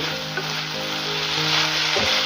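Ivy gourd (dondakaya) frying in a pan for a Telugu ullikaram dish, a steady close sizzle with a brief stirring scrape near the end.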